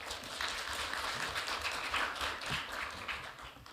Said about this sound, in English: Please give him a big round of applause once again